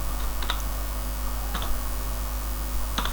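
Sparse keystrokes on a computer keyboard while entering data into a Word table, a few isolated clicks spread over three seconds above a steady electrical hum.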